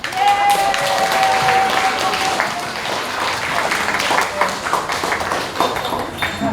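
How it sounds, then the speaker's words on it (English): Audience at a school Breakfast with Santa event breaks into sustained loud applause, a dense wash of many hands clapping that holds steady throughout, with a brief tone ringing near the start. "let's give all of our volunteers, happy helpers, and community supporters a huge round of applause"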